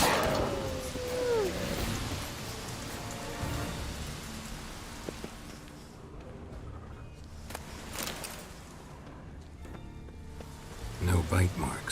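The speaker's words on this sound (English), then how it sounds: "Looks like rain." Steady rain falls in The Witcher 3, a soft broadband hiss running the full length with faint rumbles and a few brief louder bursts near the end, heard alone without talk.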